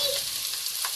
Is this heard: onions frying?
yes